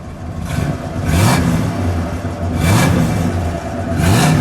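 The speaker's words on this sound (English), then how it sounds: "Go ahead. Give me a rev." A 1961 DeSoto engine revs up three times in a row in neutral, each rise in pitch falling back to idle between, loud and close through a single exhaust, with no talking.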